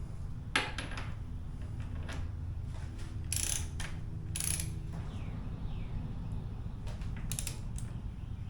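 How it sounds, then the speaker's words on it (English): A torque wrench is tightened on a motorcycle wheel bolt, giving quiet ratcheting clicks in short bursts with pauses between, close by in a calm workshop setting. "Let's get the torque wrench on it."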